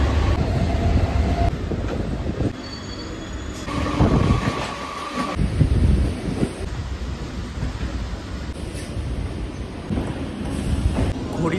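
Train rumbling through Sealdah railway station at night, a heavy continuous rolling roar with rhythmic clatter of wheels over rail joints and occasional high squeals, loud and close throughout.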